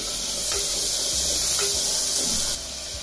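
Finely chopped onions sizzle in hot oil inside a pressure cooker while mutton keema is being made, giving a steady, close, hissing crackle that runs throughout and drops slightly near the end, with no talk.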